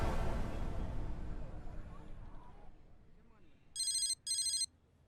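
A telephone rings in two loud electronic bursts near the end, following a stretch of busy roadside cafe bustle and murmur that fades down beforehand.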